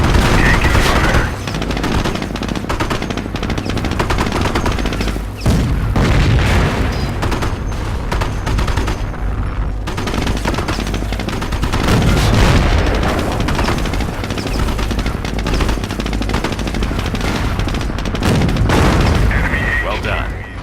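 Rapid gunfire and booming explosions in the Company of Heroes armor training tutorial, a loud, dense barrage of shots and blasts with heavy low rumble throughout and brief radio-style voice lines over the battle.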